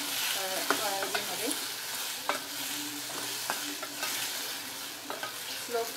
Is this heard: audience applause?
no